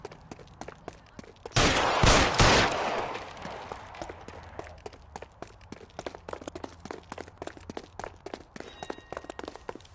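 Gunfire in the detective game L.A. Noire: a loud burst of shots cracks out near the start, followed by a long run of sharp, scattered footsteps and clicks tapering off.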